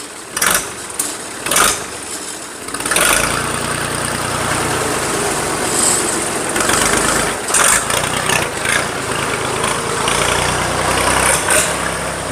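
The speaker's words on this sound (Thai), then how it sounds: "เครื่องฟิตสตาร์ทติดง่ายครับ" A used farm tractor with a 16-forward, 16-reverse shuttle gearbox starts with a few sputters, then its engine settles into a steady, close, loud running rumble.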